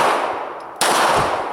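A Smith & Wesson M&P 9c pistol, fired one-handed, lets out a single loud, sharp report partway through. A bright ringing tail follows the shot.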